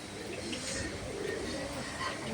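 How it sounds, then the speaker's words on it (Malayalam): Pigeons of a flying breed, a silver-eyed male and a yellow-eyed female, coo steadily against a hissy, noisy background, the soft calls running continuously through the short stretch. "നല്ല റിസൾട്ടഡ് ആയിട്ടുള്ള രണ്ട് പ്രാവുകളാണ്"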